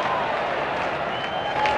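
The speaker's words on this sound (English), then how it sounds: "Applause from Kumani" Steady, dense applause from a crowd at a 1986 World Series Cup cricket match between Australia and India at the Gabba in Brisbane, with a broad even roar that continues throughout.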